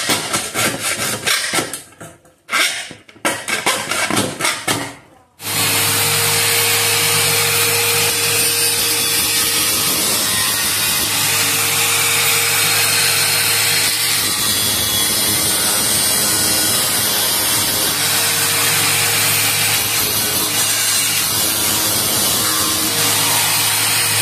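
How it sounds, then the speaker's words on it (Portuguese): Rapid rasping strokes of a small saw on a metal Heineken keg for a few seconds, then a loud, steady grinding power tool runs continuously, close and harsh. "Vou passar, começar com essa serrinha"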